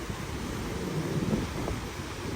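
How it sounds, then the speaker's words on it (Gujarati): Strong wind rushes outdoors during a sudden thunderstorm, a steady, fairly faint broadband roar with slight gusting swells and no voices. "પવન જો એકદમ અચાનક કેટલો વધી ગયો"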